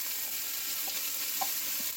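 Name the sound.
onions frying in enamelled cast-iron pot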